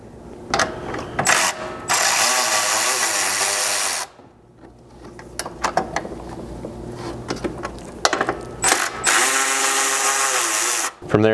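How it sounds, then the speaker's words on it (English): A ratchet driving a 7mm socket removes screws on a Chevy Colorado during a rear bumper install, giving loud bursts of rapid clicking and whirring with short pauses and quieter fiddling between them. "you still want your 7mm socket, and then you've got 2 screws up here that you'll first remove."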